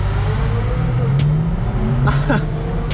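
A BMW car engine drones steadily with rising and falling pitch, revving up and down continuously, close and loud.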